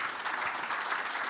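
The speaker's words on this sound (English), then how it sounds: "Can we greet her with a big round of applause" Dense audience applause at the launch of World Vision Rwanda's 2026-2030 strategy, a steady wash of many hands clapping throughout with no talk over it.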